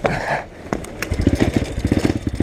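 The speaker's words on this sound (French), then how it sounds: "Et on essaye de démarrer la poussette." A dirt bike engine, an Apollo RFZ enduro, sputters and catches during a push start, firing in quick uneven pulses that settle into a rough, rapid idle, close and fairly loud.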